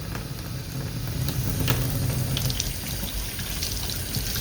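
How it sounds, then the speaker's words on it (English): Warm tap water runs steadily from a faucet while an HP inkjet printhead is rinsed under it, a close, continuous splashing hiss with slight variation. "Then I'm going to turn on some warm water"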